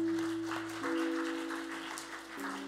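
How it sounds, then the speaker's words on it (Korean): A church congregation at a Sunday worship service applauds together, a steady wash of many hands clapping under a sustained organ or keyboard chord. "하나님께 영광의 박수를 한번 드립시다."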